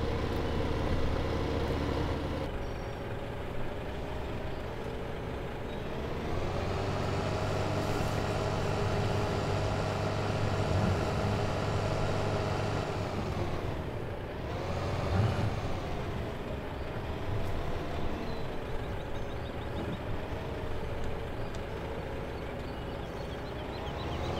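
A tractor engine in Farming Simulator 2015, on the Sandy Bay map, drones steadily and loudly for the whole stretch, its pitch rising and dipping as the machine revs and eases off, with no one speaking.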